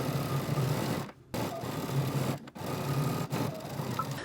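A sewing machine back stitches a seam on a turtleneck dress in steady running bursts of rapid mechanical whirring, broken by three short pauses, close and alone.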